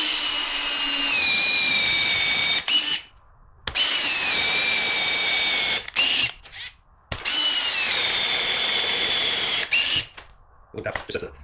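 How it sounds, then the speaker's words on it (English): A power drill bores vertically into a wooden log-bench rail in loud, whining bursts of a few seconds each, its motor pitch sagging under load, separated by short pauses with brief handling noise. "It's easier to drill vertically than when you're leaning in upside down."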